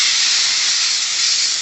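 A Dupray Neat vapor steam cleaner steaming bathroom grout hisses loudly and steadily at close range, a constant broadband rush of steam that does not let up, with no voices over it.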